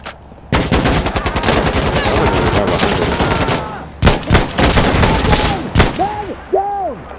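Rapid automatic gunfire from an online multiplayer shooter game, loud sustained bursts of shots with brief pauses, ending with a few scattered shots and whooshing game effects.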